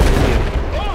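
A loud, booming explosion in the video game Battlefield, on a Shanghai level, with rumbling low-end crackle, followed by a brief rolling decay.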